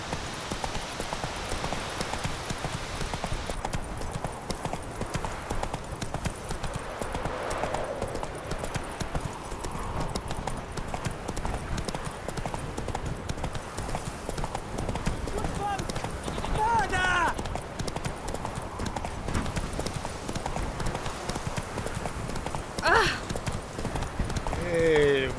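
Horse hooves clip-clop steadily in The Witcher 3 as the mount travels along, a continuous mid-distance patter running under game music and occasional spoken dialogue.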